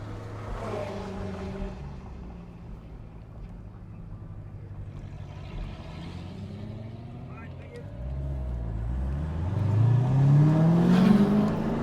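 A Chevrolet Corvette C7 Z06 race car engine drones steadily on the Sebring track at night, then climbs in pitch and grows louder as it revs up near the end.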